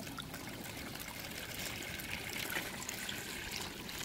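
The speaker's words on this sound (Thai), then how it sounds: "จากนั้นนะครับก็ให้ทำการเปิดน้ำ" Water is turned on and runs steadily while growing salad greens in a basin, a soft, constant hissing trickle at low volume with no pauses or other sounds.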